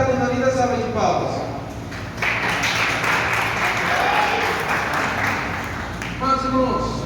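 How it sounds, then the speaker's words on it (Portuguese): Church congregation applauding for a few seconds, a broad burst of clapping rising mid-clip and carrying steadily, with a voice and some music-like tones around it at the start and end. "Pode assentar com uma linda salva de palmas."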